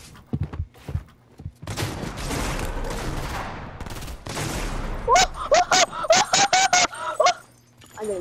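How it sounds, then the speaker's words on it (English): In a shooter video game, gunfire comes in a rapid string of sharp bursts, with dense rattling volleys first and then a run of distinct, punchy shots. "I'm getting shot at too."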